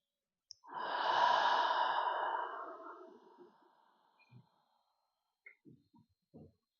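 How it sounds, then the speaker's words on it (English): A long, slow breath out through the mouth during a bedtime yoga relaxation, close and soft, fading gradually, followed by a few faint small breath and mouth sounds. "And a long breath out through the mouth."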